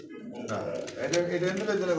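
Pigeons cooing softly nearby, a low rolling coo that sits under and between a man's speech in a pigeon loft.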